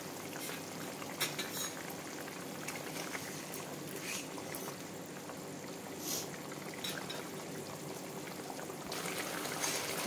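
Egg and potato curry bubbling in a covered pot, a low steady simmering hiss with occasional soft clinks and bubbling bursts, close by and quiet, with no talking.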